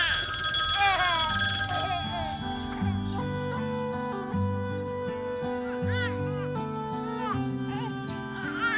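A home telephone rings with a repeating electronic tone that runs through the whole stretch, heard under background music and quiet domestic talk.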